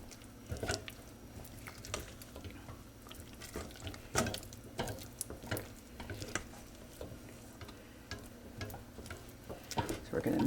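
Baking soda being stirred into hot multi-nut brittle candy in a pot, giving soft scraping and sticky, squishy stirring strokes in an irregular rhythm, close and fairly quiet.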